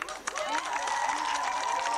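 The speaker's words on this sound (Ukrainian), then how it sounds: "Їм наші оплески!" Audience applause and cheering for a winning school team at a graduation event, a dense crowd wash of clapping that holds steady throughout, with voices mixed in.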